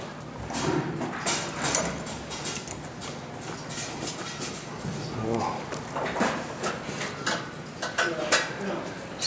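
A harness racehorse walks on hooves at Balmoral Park race track while being hitched to a race bike, giving soft, irregular clip-clops amid clinking gear and people talking nearby.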